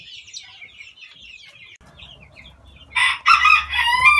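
A Brahma bantam rooster gives one loud, close crow in the last second or so, after a stretch of faint chirping and scattered bird calls.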